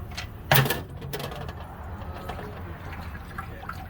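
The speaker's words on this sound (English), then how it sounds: "And we're gonna let that drain for about 5 to 10 minutes." Engine oil drains from a 2011-2014 Hyundai Sonata 2.0T, opening with a sharp splash near the start, then settling into a steady trickle and patter of liquid into a pan.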